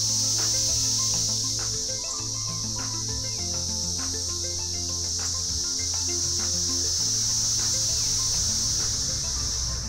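A swarm of periodical cicadas in a St. Louis–area park keeps up a loud, unbroken whining chorus, close and enveloping, with no speech above it.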